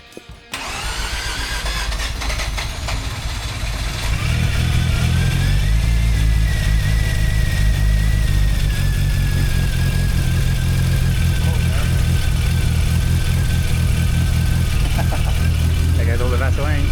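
A freshly rebuilt Renesis rotary engine in a Mazda RX8 fires up for its first start, catching after a brief crank and settling into a loud, buzzy idle that rises slightly and holds steady, with a rising whine layered above it.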